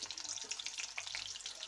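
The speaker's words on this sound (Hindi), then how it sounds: "अब इस तेल में मैं सबसे पहले अपनी प्याज जो मैंने इस तरह से काट के रखी है वो डालूँगी।" Sliced onions drop into hot mustard oil in a kadhai and fry with a soft, steady sizzle, faint and close, with no talking over it.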